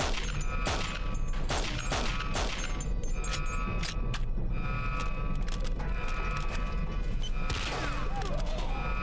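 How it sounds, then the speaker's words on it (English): Explosion and gunfire in the spy shooter James Bond 007: Nightfire form a loud, busy mix of repeated sharp shots and bangs over a constant game-audio background, with mechanical tones running throughout. "heard an explosion, that's good"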